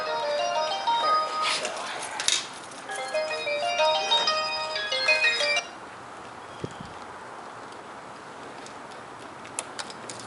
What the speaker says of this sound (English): that's your phone, I think.